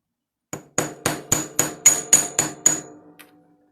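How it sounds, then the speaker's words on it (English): A chasing hammer strikes the ends of a bracelet wire, flattening them with nine sharp, evenly spaced metallic taps. The blows ring loud and close, each one decaying before the next, and the last tap comes softer. "I'm going to get my chasing hammer again. I am going to flatten the ends"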